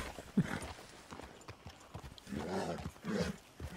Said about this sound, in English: As I ride my horse through your decorative shrubbery there.